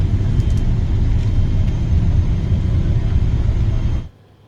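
Cabin noise from a passenger flight on the Kerala to Dubai route as it lands: a loud, steady low rumble of engines and airflow that drops away abruptly near the end.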